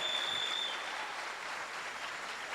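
A church congregation applauds in praise, a soft, even patter of many hands that sounds faint and distant, with a brief thin tone early on.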